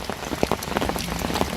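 Steady rain falls on the surface around a lakeside carp fishing spot, a dense close patter of drops with no talk.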